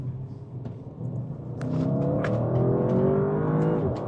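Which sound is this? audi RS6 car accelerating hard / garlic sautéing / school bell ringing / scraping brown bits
audi RS6 car accelerating hard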